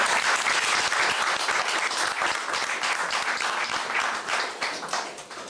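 Loud, dense applause from an audience welcoming Eve Bazaïba, secretary general of the MLC party, at a gathering in Brussels, sustained clapping filling the room and fading slightly toward the end.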